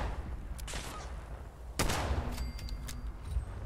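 Pistol fire in Fallout 76 on PC: several sharp, irregularly spaced shots over a noisy background, with the loudest crack about halfway through followed by quicker, fainter pops.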